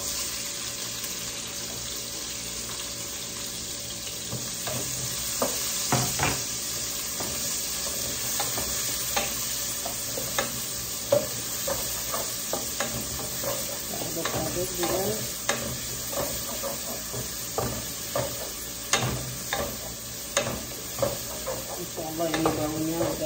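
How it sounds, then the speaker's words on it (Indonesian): Onion sautéing in margarine in a pan, a continuous close sizzle with frequent spatula scrapes and stirring clicks throughout, steady and fairly loud, with no talking. "Dan kita sekarang mau taruh si bawang bombaynya ya teman-teman."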